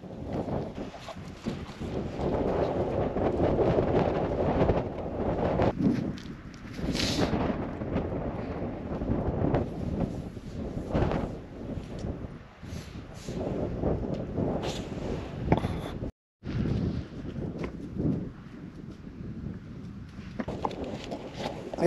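Strong wind gusts in the Greek mountains around Megali Tourla, a steady broadband rushing that swells and eases over the whole stretch, with one brief dropout near the end and no talk.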